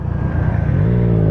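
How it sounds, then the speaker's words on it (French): A car belonging to someone else drives close by in a motorcycle setting, its engine note a loud steady low rumble rising slightly in pitch as it moves past, with no talking over it. "Ça, c'est la voiture à David"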